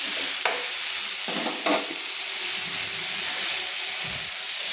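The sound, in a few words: potatoes and cabbage frying while being stirred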